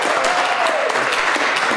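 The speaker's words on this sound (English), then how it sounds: "I like the clap." Applause at a school district board meeting after an assistant superintendent nomination, a dense continuous patter of hands with a low hum of voices underneath.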